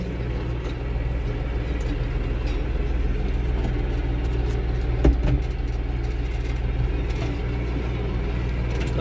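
A tractor engine runs steadily during harvest work in a pepper field, a loud low rumbling drone with a constant throb, continuous throughout with a brief knock partway through.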